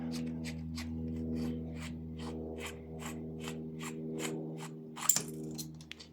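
A screw being undone on a motorcycle carburettor with a screwdriver gives about a dozen short scraping strokes in a steady, even rhythm, close and fairly quiet over a low hum, ending with a sharper click.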